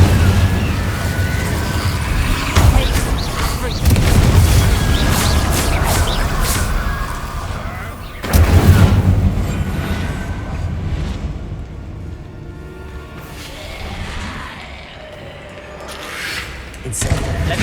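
Repeated fire spells cast in Hogwarts Legacy, several heavy booming flame bursts with rumbling tails, sharp blasts near 2.5 and 8.3 seconds, and quieter crackling between them.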